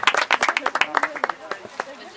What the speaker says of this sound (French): On peut les applaudir, c'était les cavaliers et cavalières.